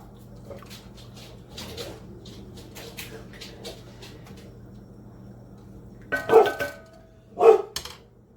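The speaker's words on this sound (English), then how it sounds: "My dogs are barking because there's a new puppy across the street and it's barking." Dogs bark indoors in a home kitchen, a few scattered distant yaps early on, then two louder, closer bursts of barking near the end over low background hum.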